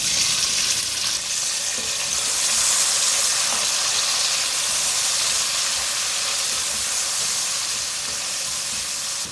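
Tomatoes hit hot oil with black peppercorns, cloves and cumin seeds for aloo tahari, giving a loud, steady sizzle and hiss that holds evenly throughout, with faint stirring and no voices.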